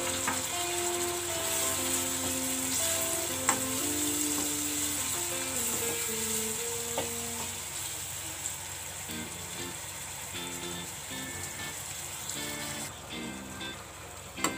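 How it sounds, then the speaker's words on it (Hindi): Chopped tomato frying in hot masala in a pan for a mixed vegetable sabzi, a steady close sizzle with occasional spatters and light stirring under a faint melodic background tune, no talking. "इसको 20 से 25 सेकंड के लिए भून लेते हैं और उसके बाद डालते हैं हम इसमें कटा हुआ टमाटर"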